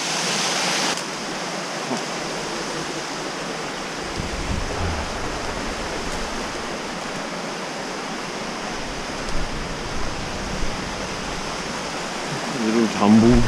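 Canyon creek tumbling over small drops between high walls, a constant broadband rush of water, close and loud, with brief faint movement noises near the end.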